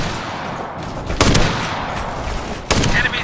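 Gunfire in a firefight from the military shooter Operation Flashpoint: Red River, with a steady background roar broken by two loud, short bursts of shots, the second burst near the end.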